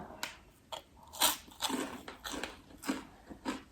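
Crispy fried Smoutebollen dough balls, Belgian winter festival treats with a soft chewy inside, crunched in a series of close, loud bites with chewing between them and no talking.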